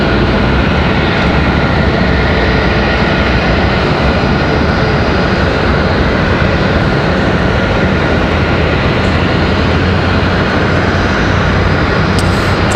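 A Republic Airways jet from Orlando at Raleigh-Durham International produces a steady, loud engine roar with a broad rumble that holds unbroken throughout.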